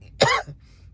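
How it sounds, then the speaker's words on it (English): A single sharp cough bursts out close to the microphone, followed by a brief softer throat sound and then quiet. "ooh, this cough"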